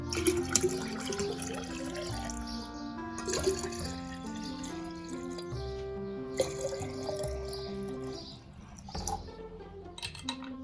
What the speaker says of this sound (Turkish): Sürahilerimi dolduracak kadar içme suyu ekliyorum.